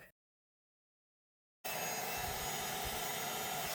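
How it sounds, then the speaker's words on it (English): Heat embossing tool blowing steadily on green cardstock with a birthday wishes sentiment, a constant loud whooshing fan hiss that switches on abruptly after silence and runs without pause. "So I'm just heat embossing that birthday wishes on this green cardstock."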